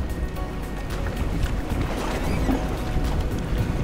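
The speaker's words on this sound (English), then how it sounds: "this is my dream boat." A 39-foot Contender boat runs across open water, giving a steady broadband rush of engine, hull and wind noise at constant loudness, with no clear talk.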